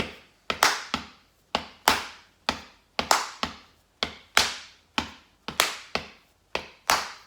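Body percussion plays a brisk rhythm of sharp claps and duller stomps in repeating groups, each hit crisp and separate, in a workshop room with no talking over it.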